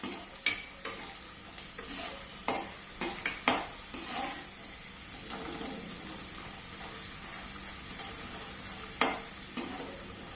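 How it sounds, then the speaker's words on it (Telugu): Cashew nuts and peanuts frying in a pan, a soft low sizzle under a series of sharp spoon clinks and taps against the pan, irregular and closely miked but quiet overall. "క్యాషూ నట్స్ కూడా వేసుకొని ఇవి కూడా కొంచెం వేగిన తర్వాత తీసేసుకుందాం."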